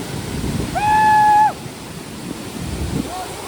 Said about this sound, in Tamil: சாரல் அடிக்குது